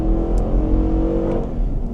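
Nissan Patrol Warrior V8 (Y62) with side exhaust pulling under full throttle, a steady deep engine drone rising slightly in pitch, close and continuous with no talk.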